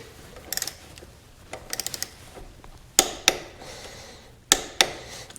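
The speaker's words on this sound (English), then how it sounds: "now I'm going to torque it in" Torque wrench tightening the front axle of a BMW R1250GS motorcycle to 30 Newton meters, giving a few sharp metallic clicks in small clusters, close and fairly loud against a quiet background.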